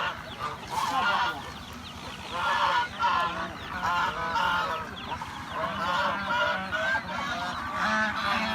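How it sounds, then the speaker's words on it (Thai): A flock of geese honking loudly and continuously, overlapping harsh calls close by with a constant noisy chorus. "ห่านสี่ตัวพี่น้อง"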